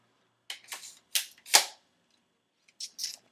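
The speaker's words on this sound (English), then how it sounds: "Let's try this big boy. Shotgun." An airsoft shotgun fires in several sharp, snappy cracks, a quick cluster of shots followed after a short pause by two more, fairly close and alone with no talk.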